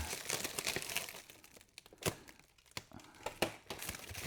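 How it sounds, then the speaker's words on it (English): Plastic wrap crinkles and crackles in irregular close bursts as a fuel rail for an R31 Skyline E85 conversion is unpacked, with sharp rustling peaks and quieter handling between them, without talk. "Good old plastic wrap everywhere."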